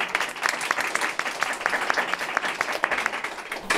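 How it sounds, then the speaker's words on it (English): A room full of people applauding, steady overlapping claps with a few sharper individual claps standing out. "So I'd like to have a round of applause for our panel."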